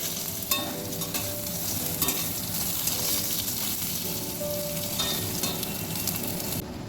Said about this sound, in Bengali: বেগুনগুলো ভেজে নিচ্ছি।